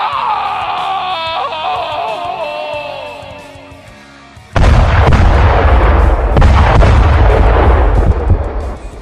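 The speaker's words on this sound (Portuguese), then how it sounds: "A frase desesperada é o suficiente para fazer soar os canhões." Cartoon cannon fire breaks out abruptly midway as loud, dense booming bursts with a rumbling low end, following a quieter stretch of music, in an Incredible Hulk animated scene of an army attack.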